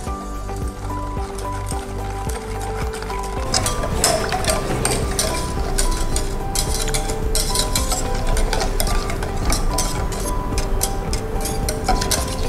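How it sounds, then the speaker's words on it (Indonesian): A chocolate pudding mixture of milk and vanilla, boiling in a pot, is stirred steadily; a utensil scrapes and clinks against the pot bottom over bubbling liquid. The sound is continuous and close, with no talk. "ini kita aduk terus untuk menghindari gosong di bagian bawahnya"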